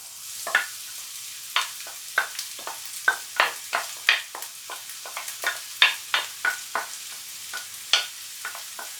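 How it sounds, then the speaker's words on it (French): Garlic cloves and sliced onions sautéing in a pan for a pepper and egg gratin, a steady low sizzle broken by repeated scraping stirs of a utensil at an irregular, lively rhythm, close and with no talking. "on va faire revenir donc les gousses d'ail avec les oignons émincés."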